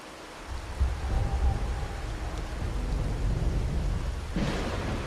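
Steady rain pours in a Raguna street scene in the game Wuthering Waves, a continuous wash of falling water with a low rumble and a brief brighter swell near the end.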